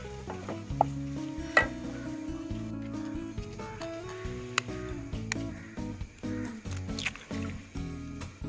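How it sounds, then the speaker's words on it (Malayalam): Sautéing in ghee in a pan for an evening snack: light scraping and stirring clicks with a soft sizzle, faint and intermittent beneath background music. "ഇത് നമുക്ക് ഈ നെയ്യിലിട്ടൊന്ന് വഴറ്റാം."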